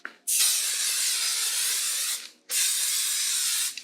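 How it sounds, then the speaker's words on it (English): Two long bursts of 505 spray adhesive hiss loudly at close range, separated by a brief pause. "and I just spray that down"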